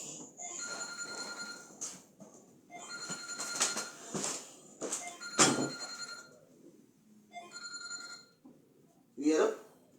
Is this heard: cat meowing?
no